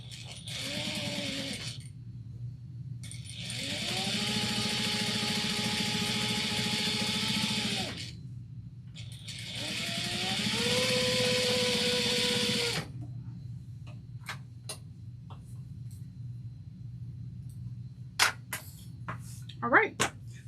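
A sewing machine top stitches a shoulder bag at 1/8 inch, running in steady motorized bursts: a short one, then two longer runs of several seconds each. Pauses and small clicks fall between the runs.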